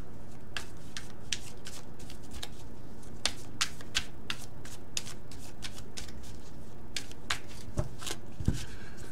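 Tarot cards being shuffled by hand in a steady run of crisp riffles and slaps, close and clear with no talk, about nine seconds long.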